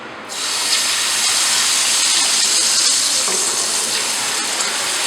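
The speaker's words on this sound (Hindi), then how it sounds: "और इसे थोड़ा थोड़ा करके हमने नहीं डालना, एक ही दफ़ा हम इसमें पानी डाल देंगे।" Water dumped in one go into hot roasted semolina for suji halwa erupts in a loud, continuous sizzling hiss of steam that starts abruptly and holds steady, close up, with no voices.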